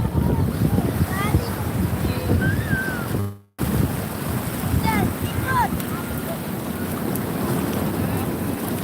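Wind gusts and ocean surf roll continuously at Parangtritis Beach, a loud, rough roar with voices faintly present underneath and a brief dropout partway through.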